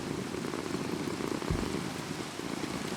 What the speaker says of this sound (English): It's a thunderstorm, right?